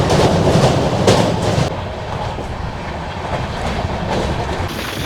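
Sealdah–Jammu Tawi Humsafar Express running on rails near the Barakar river between Asansol and Dhanbad, a steady loud rumble with clattering wheels that drops slightly in level partway through.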